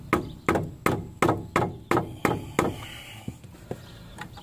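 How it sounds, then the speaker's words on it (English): Repeated sharp knocks of a rubber mallet on a stuck front brake caliper of a 2010 Ford F-150, about seven evenly spaced strikes, then a few softer, scattered taps. "Let me get a rubber hammer."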